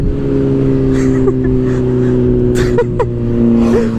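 A 2024 Kawasaki ZX-10R motorcycle roars past on a race track, a steady loud engine drone with brief revving swells as it flies by close to the microphone.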